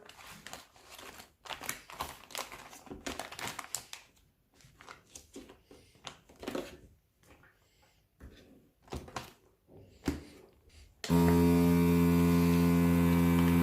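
A Silvercrest SV 125 B2 bag vacuum sealer switches on and runs with a steady loud motorized hum after some handling noises, clicks and rustling.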